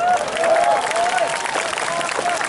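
Audience applause fills a religious lecture hall at a dakwah gathering in Batulicin, a steady wash of clapping from a large crowd of worshippers, continuous and fairly loud throughout with a faint voice threading over it.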